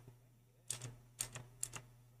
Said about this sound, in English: Okay, we're gonna hear the keyboard real well.